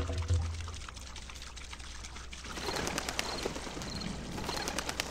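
Water flows and pours steadily through pipes in the game Vampire Legends, a continuous rushing wash that rises after a short pause, with pigeons cooing nearby.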